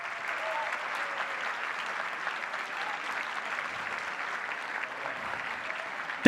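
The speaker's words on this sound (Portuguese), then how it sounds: "Vamos aplaudir." An audience at a talk claps in steady, even applause that holds level throughout, a dense sustained patter of many hands with no voices standing out.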